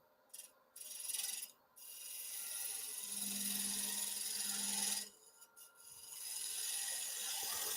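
A lathe turning tool cuts the wobbly edge of a spinning wood blank, giving faint rasping, scraping passes in several bursts with brief pauses between them, heard up close with no voice.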